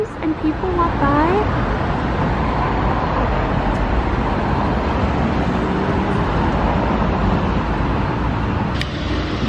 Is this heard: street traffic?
yes